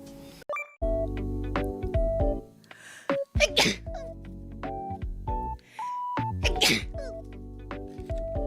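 Several sneezes in a row, some loud and abrupt and others softer, sit among electronic beeps, chimes and musical jingles, with short bits of voice between them.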